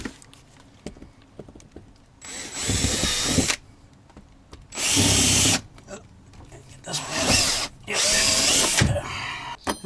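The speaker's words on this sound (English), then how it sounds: "So I'm drilling a few holes" A power drill bores holes in a Jeep camper to mount a battery strap, with three loud bursts of whining drilling separated by pauses filled with quiet handling noise.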